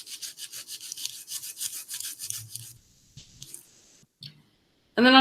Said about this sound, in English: you want to scrub it pretty good